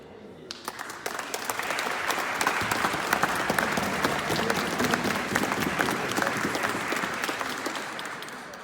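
Sustained audience applause at a town twinning ceremony between Vaison-la-Romaine and Martigny, a dense crowd of clapping hands that builds quickly and holds steady for several seconds.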